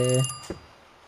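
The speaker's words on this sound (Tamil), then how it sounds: "இது வழக்கம் போல் ஃபோனும் அடிக்குது" A telephone rings in the Kiosk video game, a loud, bright electronic ring tone that cuts off after a fraction of a second, followed by a soft click.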